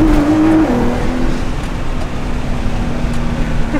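A race car engine drones steadily at close range, a sustained loud hum with a slight pitch drop early on as the car drives.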